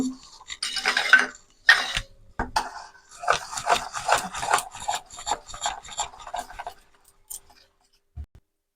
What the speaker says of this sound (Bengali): এবার আমি ব্যাটারটাকে আর একবার ফাটিয়ে নেব।